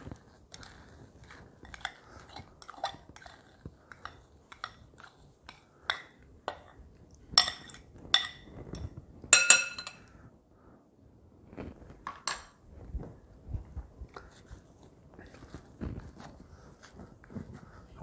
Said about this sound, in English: So now we're going to put in the cheese into it. And we're going to mix the two together.